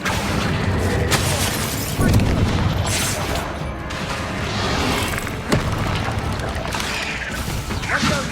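Spell combat in the video game Hogwarts Legacy, with a steady stream of booming Confringo blasts and crashing impacts, dense and loud throughout, while a voice calls out spells over the din.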